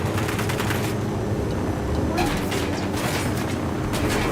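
Sustained gunfire in a video game: dense, continuous bursts of shots and rattling fire, loud and close, with no talking.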